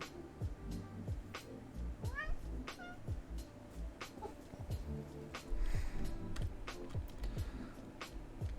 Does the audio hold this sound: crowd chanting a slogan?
no